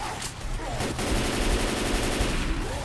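Rapid, continuous gunfire in the zombie shooter Left 4 Dead 2, steady and loud throughout the short stretch with overlapping automatic bursts.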